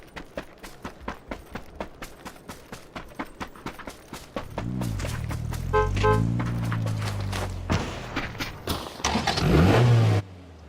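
A car engine in PUBG revs up and accelerates after a run of rhythmic thumping steps, the rising engine drone swelling loud and close before cutting off near the end.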